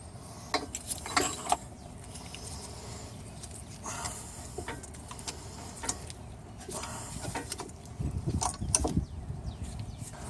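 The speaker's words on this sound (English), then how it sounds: "now we'll recess the caliper piston with this caliper compression tool" Caliper compression tool recessing the piston of a Ford Escape front brake caliper, a quiet series of soft mechanical clicks and ratcheting taps at close range over a low background hum, with no talking.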